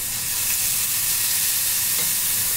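Masala for papad curry fries in a pan with a dense, loud sizzle and a brief stirring scrape, heard up close and uninterrupted by any voice.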